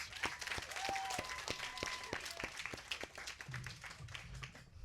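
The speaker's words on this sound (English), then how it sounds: "Let's give them one more round of applause, please." Applause from a luncheon audience at a summer internship appreciation event, a steady round of clapping from many hands at moderate distance, with a few low voices murmuring underneath toward the end.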